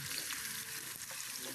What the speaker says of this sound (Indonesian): goreng setengah matang